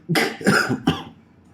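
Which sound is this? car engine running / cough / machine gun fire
cough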